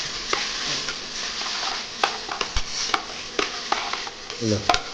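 Egg chowmein sautéing and being stirred in a pan: a steady soft sizzle with repeated scraping and clicking of a spatula against the pan at irregular intervals, close and moderately loud, without speech.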